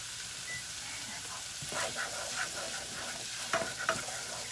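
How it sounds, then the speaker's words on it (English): Onions frying on medium heat in a pan, with a steady soft sizzle and a few brief scraping stirs of a utensil; no talking. "occasionally stirring or until onions have become golden and soft, but not yet turned brown"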